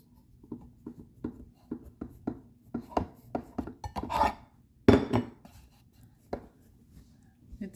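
A knife cuts into a soft black sapote fruit, making a series of quiet, close scraping and tapping strokes in an uneven rhythm, with a couple of louder scrapes partway through.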